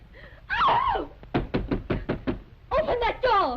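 A fist raps quickly on a door about seven times in a steady run, loud and close, with shouting voices just before and after.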